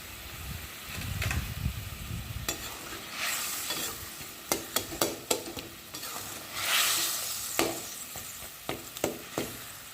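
Ivy gourd fries with salt in a pan: a continuous sizzle and hiss under scraping stirs, with several sharp clinks of a spoon against the metal and a swell of steam partway through.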